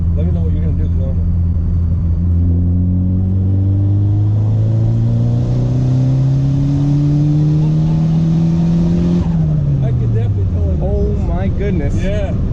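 A turbocharged Honda Accord fitted with a boost controller pulls hard in third gear, its engine note climbing steadily and loud for about nine seconds before dropping off sharply as the throttle closes, with whistling turbo sounds after.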